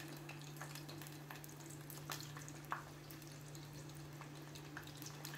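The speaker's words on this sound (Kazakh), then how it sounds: "Картопымызды арнайы осылай майда жақсылап қызарғанша қуырып аламыз." Potatoes fry in oil with a faint, steady sizzle and scattered soft crackles, heard quietly against a constant low hum.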